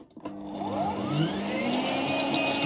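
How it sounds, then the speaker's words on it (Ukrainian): An electric meat grinder spins up and runs steadily with a whirring motor hum, close and continuous, with no talking. "запускаємо м'ясорубку"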